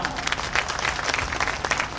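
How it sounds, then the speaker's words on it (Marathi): A political rally crowd claps loudly to welcome Nitesh Rane at a BJP workers' gathering in Umadi, a dense, steady roar of many hands with scattered sharper claps throughout. "जेवढ्या टाळ्या जास्त वाजतील तेवढं आपल्याला बरं पडेल, म्हणून जरा जोरदार टाळ्या वाजवा।"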